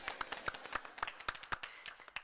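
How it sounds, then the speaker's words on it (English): A small audience claps for Mrs. Nicole at a school assembly, with a few distinct, fairly quiet hand claps in an uneven rhythm, heard alone. "Everybody give a big round of applause to Mrs."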